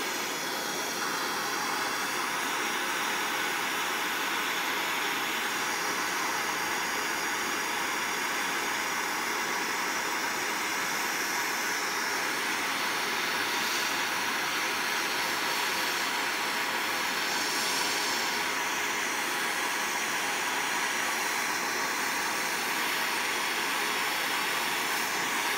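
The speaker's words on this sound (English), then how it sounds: "What I'm going to do is basically heat it up with my gas torch." A gas torch roars in a steady, continuous hiss while heating the aluminium injector mounting on a Porsche 928, with no one speaking.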